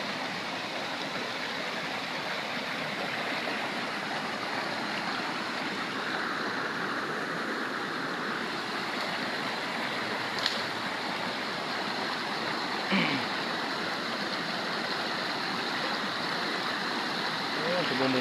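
Water flows steadily in a forest stream as a constant broadband rush, with a faint voice and small knocks now and then.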